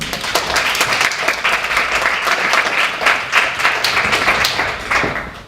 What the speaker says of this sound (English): Please join me in welcoming Jill with a round of applause.